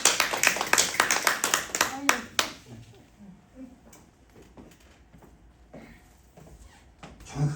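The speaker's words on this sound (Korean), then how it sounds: "박수 부탁드리겠습니다." Church congregation applauding during a Sunday worship service, a dense burst of many hands clapping for about two seconds before thinning into scattered claps and quiet room murmur.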